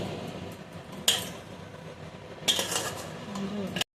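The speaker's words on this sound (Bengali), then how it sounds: "আমি হালকা হাতে এটাকে নেড়ে নেড়ে আমি এটাকে মিশিয়ে নেব।" A spoon or spatula scrapes and clanks against a pan while fried rice is stirred and mixed with the gas off, a few sharp metallic knocks over soft rustling.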